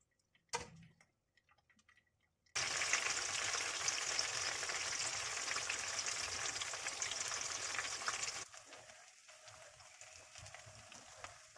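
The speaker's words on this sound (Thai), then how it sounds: "ขออนุญาตทอดต่อจนให้เสร็จเลยนะคะ" Chilies frying crisp in hot oil give a steady, dense sizzle lasting several seconds, then it drops sharply quieter, with a few light clicks of a utensil before and after.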